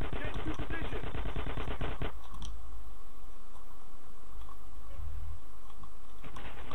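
A rapid burst of automatic gunfire in GTA San Andreas on PS2 for about two seconds, followed by quieter background ambience and a few faint clicks.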